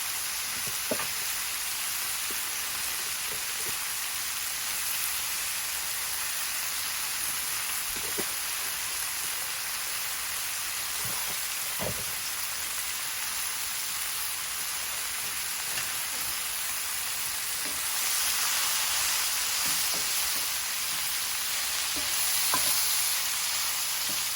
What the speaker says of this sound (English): get you back over here in the pot to see the onions and the mushrooms cooking